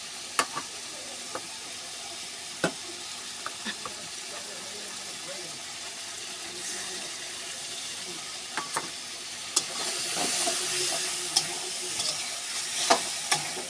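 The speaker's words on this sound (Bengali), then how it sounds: "মশলাটা ভালো করে কষিয়ে নেব।" Spice masala with sauce, for a soybean curry, cooks in a pan with a low steady sizzle, punctuated by sharp clinks and scrapes of a spatula at irregular intervals, close and moderately quiet, with a louder bubbling hiss near the end.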